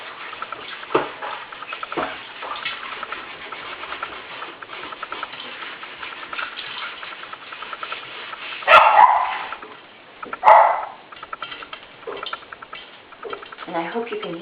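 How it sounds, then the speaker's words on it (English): Popcorn popping in a covered pot on the stove, a low steady sizzle with scattered soft pops and two louder bursts partway through. "I hope you can hear that popping"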